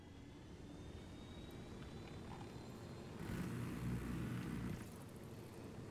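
A helicopter flies in a video game, a steady droning engine rumble that swells louder for a couple of seconds before settling back, with no talk over it.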